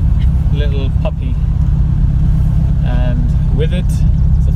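A Porsche 718 Boxster S fitted with a sports exhaust rumbles with a loud, steady low drone throughout while a person talks over it in short bursts.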